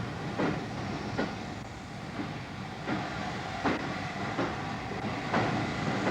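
A steam train rolls along steadily with a rhythmic clickety-clack of wheels over rail joints above a constant low rumble.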